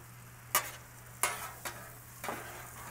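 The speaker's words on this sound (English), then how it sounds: "Let this butter melt." Butter melting with cinnamon for candied sweet potato yams on a Blackstone griddle, giving a low steady sizzle broken by four sharp scraping or stirring hits from a spatula.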